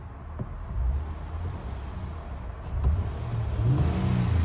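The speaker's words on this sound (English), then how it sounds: "this car, it sounds good when you rev it" A 2008 Honda Accord V6 engine revving, a low rumbling drone that swells and climbs in pitch toward the end, heard fairly close without talk.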